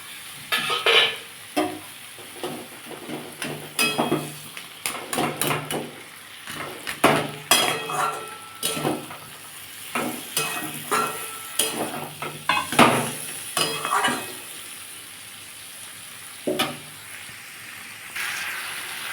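Gourd greens are stir-fried with a fried rohu fish head in a pan, a spatula scraping and clattering against the metal in uneven bursts over a continuous close sizzle, with no voices.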